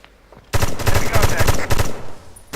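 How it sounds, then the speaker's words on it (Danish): Rapid automatic gunfire from a video game shooter rattles in loud, dense bursts after a quiet start, with several short volleys close together and a brief pause before more shots. "jeg har skudt ham."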